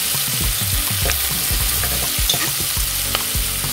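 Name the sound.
cabbage sautéing in olive oil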